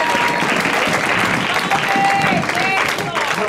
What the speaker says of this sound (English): Somebody get a Lord a hand clap of praise.